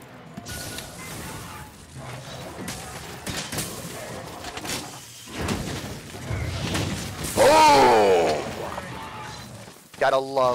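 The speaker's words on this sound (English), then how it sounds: "Gotta love the grand explosion." A charge blade's grand explosion in Monster Hunter World, during a solo fight against a Diablos, bursts out as a loud crashing blast amid busy game effects, with a voice speaking around it.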